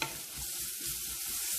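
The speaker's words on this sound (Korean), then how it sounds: "양파와 대파도 갈색이 나지 않게 볶아주시는 게 중요해요" Chopped onions and leeks stir-fry in oil in a pan, a soft steady sizzle broken by rhythmic scraping as the vegetables are turned, fairly quiet and close with no voices.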